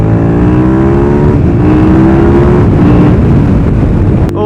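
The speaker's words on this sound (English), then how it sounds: "Oh, that torque is insane. The way it powers out of corners, you have to be awake." A Superduke motorcycle on a race track drives hard out of corners, its engine a loud, continuous roar close by with a steady note that climbs under acceleration and a brief dip near the end.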